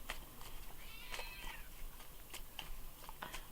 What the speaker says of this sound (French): Ça, ce sont les chats du voisin.